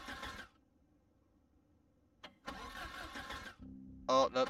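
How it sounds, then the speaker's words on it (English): A car engine in the survival game Project Zomboid cranks and fails to catch: a short starter burst, a pause with faint hum, then a longer grinding crank ending in a brief high electronic tone. "Oh, no, the car won't start."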